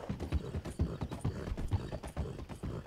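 A dark steel Breton horse in the Red Dead video game clip-clops along in a steady walking rhythm, with clear, moderately close hoof strikes.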